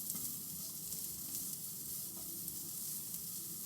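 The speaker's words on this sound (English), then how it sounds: "In comes the garlic." Garlic going into a carbon steel pan of frying onions gives a soft, steady sizzling hiss with faint stirring, heard fairly quietly and without any talking.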